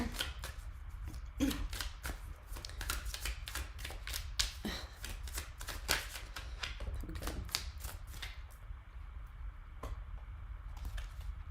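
Tarot cards shuffled and drawn by hand in a run of crisp, rapid riffling flicks and slaps, close and fairly loud, with brief pauses between bursts and no talking.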